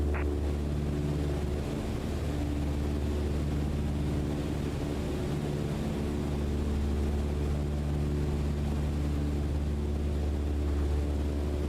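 Steady propeller engine drone of a Cessna 152 in cruise at about 1,600 feet in Microsoft Flight Simulator 2020. It is a constant, loud, low hum with no change in pitch and no voices.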